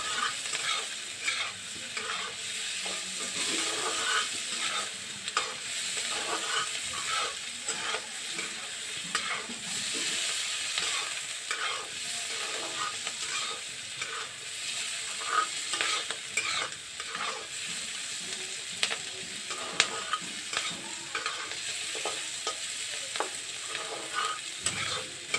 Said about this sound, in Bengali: দেখতেই পাচ্ছেন ক্যাপসিকাম আর পেঁয়াজগুলো একটু একটু ভাজা হচ্ছে।